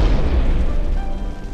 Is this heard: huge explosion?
yes